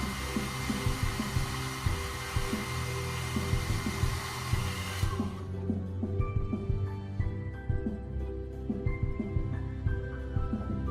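A heat tool blows steadily over model tank tracks to dry off solvent, a close, even hairdryer-like rush that cuts away after about five seconds, leaving faint fan hum and light ticking.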